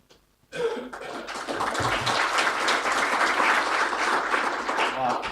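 After a brief near-silence, a conference audience at a Southern Ocean science presentation bursts into applause: many hands clapping in a full, sustained roar that holds steady for several seconds.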